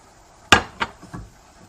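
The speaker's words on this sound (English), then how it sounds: "what I'm going to do now is add that all-important garlic in. And my onions" Garlic and onions dropped into a pan of browned bacon and chicken, a sharp clatter followed by two softer knocks, close and clear in a quiet kitchen.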